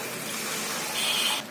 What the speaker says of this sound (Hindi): तो अब इसमें डालेंगे हम आधा कप के करीब पानी।